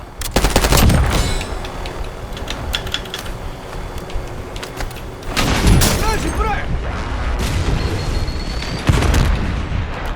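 Rapid bursts of automatic gunfire and booming impacts fill a combat video game, loud and dense throughout, with heavy blasts near the start and middle and a radio-style voice speaking over the chaos.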